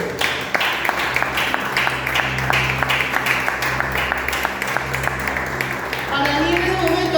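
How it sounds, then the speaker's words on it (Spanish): A church congregation claps for the Lord during a Spanish-language sermon, a rhythmic, fairly loud patter of hands over a sustained low musical drone, with a voice speaking over it near the end. "Dale ese aplauso al Señor"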